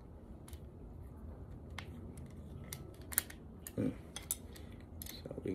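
A wrench clicks and ratchets while loosening backrest brackets on a Can-Am Ryker motorcycle, with sharp metallic ticks scattered over a low background and a couple of brief grinding turns, close and fairly quiet, no talking.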